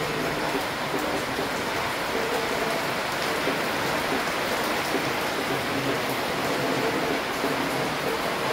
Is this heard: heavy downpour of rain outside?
yes